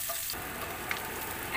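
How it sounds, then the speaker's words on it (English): Onion sautéing in a pan for beef stew, a constant close sizzle with a faint clink and a slight swell at the end, no talking. "Then we have to saute our onion until it gets translucent or become golden brown."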